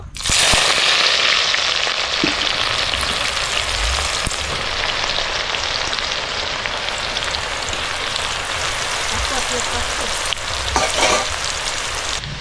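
Sliced onions fry in hot oil for beresta, a loud, dense, continuous sizzle like heavy rain, with occasional faint stirring knocks.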